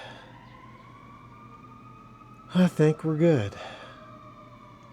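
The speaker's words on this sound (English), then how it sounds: "sorry about the sirens." A distant fire engine siren from a nearby fire station wails steadily in the background while someone speaks briefly and quietly near the middle.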